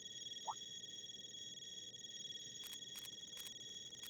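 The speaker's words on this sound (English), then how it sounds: "Everyone's ciphers are ringing all at once." Several ciphers, the phones of Trails through Daybreak, ring at once in short electronic bursts that repeat as a ringing pulse over a steady tonal drone. One small chirp comes earlier, and everything stays quiet and fairly faint.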